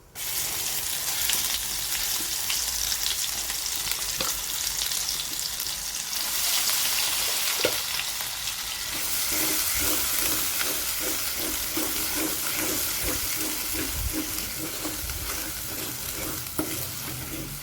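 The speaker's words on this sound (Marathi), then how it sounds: "तेला आपण हा व्यवस्थित परतून घ्यायचा आता पहा ग्रेव्ही आपली भाजत आहे" Ground masala gravy with cumin frying in oil, a dense continuous sizzle and hiss with steady scraping stir strokes, close and loud throughout, no talking.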